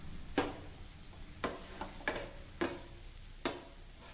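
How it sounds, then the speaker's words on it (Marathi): Bitter gourd (karela) slices frying on a hot tava, with a quiet sizzle broken by five or six sharp clicks and scrapes of a spatula turning them at a steady pace. "आपल्याला तव्यात टाकून ती गरम करून घ्यायची आहे"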